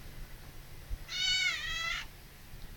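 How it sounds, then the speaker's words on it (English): A single cat meow, drawn out for about a second with a slight wavering pitch, moderately close over a quiet room hum. "Meow."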